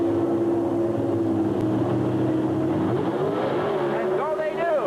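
Two Chevrolet Camaro drag cars at the 1982 NHRA Winternationals roar off the line down a quarter-mile strip, a loud sustained engine drone rising in pitch as they accelerate, with an announcer talking over it.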